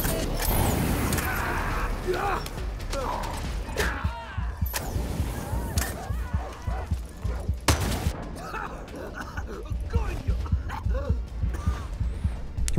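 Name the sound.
dogs barking in video game Far Cry 6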